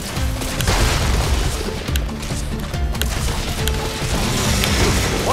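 Battleship cannons in Skylanders Imaginators fire at a guacamole monster, a dense, loud barrage of booming blasts and crashing impacts over layered game music and effects.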